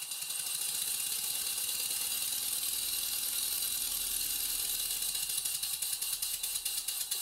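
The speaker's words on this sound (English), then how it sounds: "I connected the compressed air line, lubricated all the moving parts, opened the valve slightly on the compressor and spun the flywheel." A model steam engine runs on compressed air with its flywheel spinning, giving a steady, faint mechanical chuffing and rattling hum that holds on evenly throughout.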